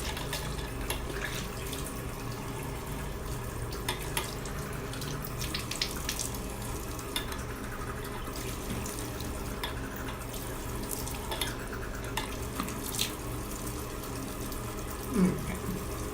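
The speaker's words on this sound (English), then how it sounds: "Now I'm just going to rinse it off." Tap water runs steadily into a sink while facial cleanser is rinsed off, a continuous close splashing hiss lasting throughout with occasional drips and small knocks.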